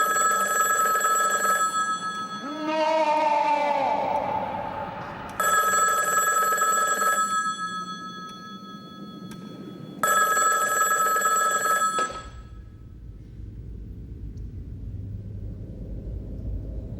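An old-style telephone bell rings in three long, loud trills separated by short pauses, each ring bright and insistent, with a rising synthesized sweep in the first gap and a low rumble taking over after the last ring.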